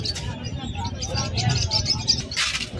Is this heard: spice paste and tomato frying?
no